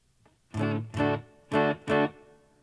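Electric guitar through a Boss RC-600 amp simulation with the microphone set off-axis, giving a more distant tone: four separate strummed chords in two pairs, each ringing briefly before cutting off, with no talking.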